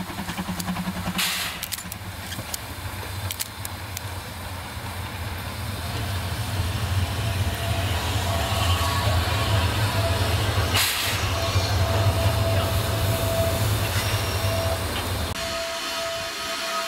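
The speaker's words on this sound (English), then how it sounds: "our train stopped to allow a service train from Goran to arrive at the station." A service train on the narrow-gauge Rasender Roland railway pulls into a station, giving a steady low rumble and hiss that swells over several seconds and then cuts off, with faint clanks along the way.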